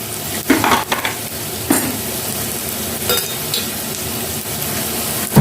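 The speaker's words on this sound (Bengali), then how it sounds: "ততক্ষণে পেঁয়াজটা একটু ভাজা হোক।" Onion sizzles in a pan while South Indian-style chana is prepared, with a steady fry hiss broken by several sharp stirring scrapes and clinks of a utensil against the pan.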